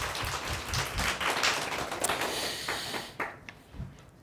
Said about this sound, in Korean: 하나님 앞에 영광 박수 드립니다